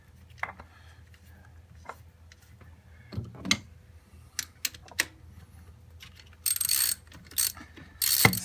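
A bolt with a small lock washer is run down on a Corvette C6 alternator: scattered near metallic clicks, then sharp bursts of rapid ratchet ticking toward the end, no voices.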